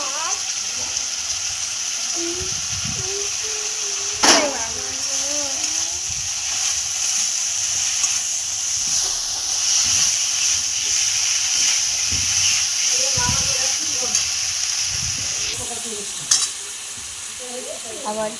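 Fish sizzling and frying in a hot pan for a fish curry. A steady, bright hiss runs throughout, broken by occasional stirring scrapes and a few sharp clinks, close and fairly loud.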